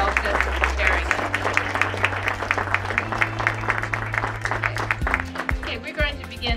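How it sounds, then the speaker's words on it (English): An audience at a Black History Month art festival claps through a round of applause, with sustained low musical tones running underneath the steady, moderately loud clapping. "So I also would like everyone just to give a big round of applause to everyone"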